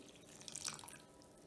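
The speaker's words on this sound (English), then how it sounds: "We're going to add in our 2 cups of water. And this is just room temperature water" Room-temperature water is poured into a mixing bowl, a brief quiet splash and trickle peaking midway, then fading.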